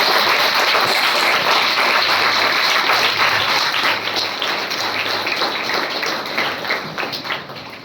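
A college hall audience at a Women's Day event gives a long, dense round of applause for the special guest, sustained and loud throughout before tapering slightly at the close.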